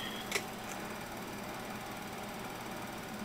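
A rotary alternator, run from a bench power supply, drives a free resonator hydrogen cell with a steady mechanical whirring hum. It is constant and moderately faint, with a brief tick near the start.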